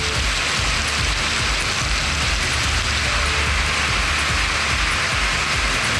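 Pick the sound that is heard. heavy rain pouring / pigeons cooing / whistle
heavy rain pouring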